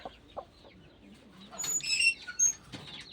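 Chickens on a Punjabi farm clucking and chirping at close range, short bursts of calls over a quiet yard background.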